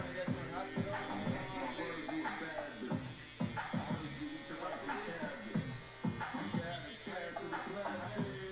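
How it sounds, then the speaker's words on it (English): An electric shaver buzzes steadily during a skin fade haircut, its drone rising and dipping as it moves against the head, with a person talking over it throughout. "So now I'm putting in the shaver."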